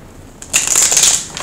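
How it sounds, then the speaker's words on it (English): A deck of tarot cards being shuffled once, a short close riffling burst of crisp flutter lasting under a second, heard alone. "One more shuffle."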